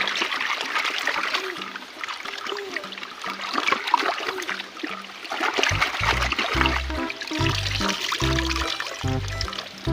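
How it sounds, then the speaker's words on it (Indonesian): A small stream trickles and splashes steadily, close by, with low irregular thumps as things move in the water. "Kakak berhasil menemukan sungai kecil ya"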